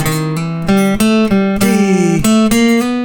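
A bluegrass solo line on an acoustic guitar, a run of bright, clearly separated picked notes with a bend near the middle, loud and close, played alone without talk.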